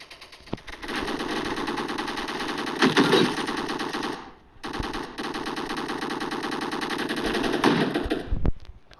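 Roblox gun game firing: sustained, rapid automatic machine-gun bursts, loud and close, broken by one short pause midway before the fire resumes.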